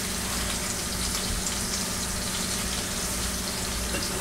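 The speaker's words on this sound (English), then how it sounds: "Yep, starting to sizzle now. Anchovies smell great." Anchovies sizzling in a hot pan, a dense, constant close hiss and crackle like running water, loud and unbroken, with no talk.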